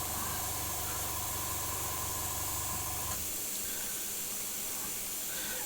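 Steady hissing spray of paint from an airbrush onto a plastic scale model, held from above, a continuous close breathy rush that changes tone partway through.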